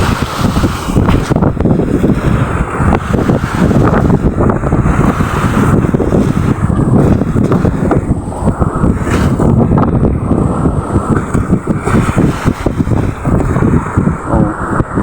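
Strong northeast monsoon wind buffets the microphone over the constant crash and wash of sea waves, a loud, rough roar lasting throughout.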